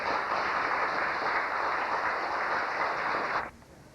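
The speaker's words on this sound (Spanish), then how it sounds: "a quien lo recibimos con un fuerte y caluroso aplauso" An audience at a book presentation in Cusco, Peru claps to welcome a speaker, a broad steady wash of applause that cuts off abruptly near the end, leaving quiet room tone.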